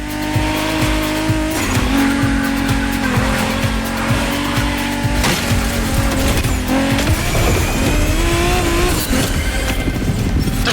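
American muscle cars racing in The Crew Motorfest, with a loud, continuous engine roar that rises and falls through gear changes and repeated screeching tire squeals and skids, with no talking.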